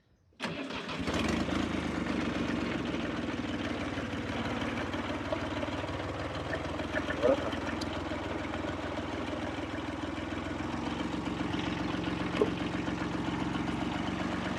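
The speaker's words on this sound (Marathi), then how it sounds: "आता ट्रॅक्टर कोल्ड स्टार्ट आहे." A tractor engine turns over from a cold start and settles into a steady, rumbling idle that runs on without a break, close by, with no voices.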